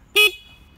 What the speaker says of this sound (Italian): il clacson eh, è come quello di una macchina praticamente